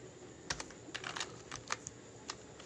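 Code being typed on a computer keyboard while building a Vue.js dynamic text field layout, a quick irregular run of light key clicks over a faint steady background hum.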